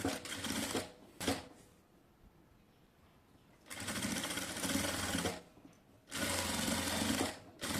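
A sewing machine stitching the hem of designer trousers runs in three bursts of rapid mechanical whirring, separated by quiet pauses. The sound is close and clear, with no talking.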